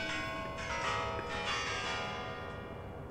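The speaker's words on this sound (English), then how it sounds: "how do you want to ring the bells?" Bells ring out in the Instinct video game, a steady resonant peal with layered overtones sustained through the whole stretch, loud and without voices.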